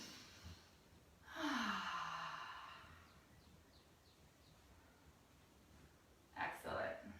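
A deep breath during a gentle beginner's yoga flow: a long, soft exhale rises and fades near the mic, then another quick breath near the end over quiet room tone.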